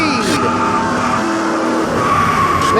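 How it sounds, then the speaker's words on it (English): Stock cars skidding and squealing in a multi-car pile-up at Richmond in a NASCAR racing video game, with a steady roar of engines and tires throughout under an excited commentator's voice. "Wow, and now there's a pile up again."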